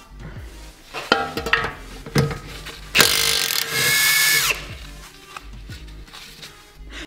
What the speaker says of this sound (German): Jetzt komme ich an die Mutter von der Koppelstange ran und die schraube ich ab.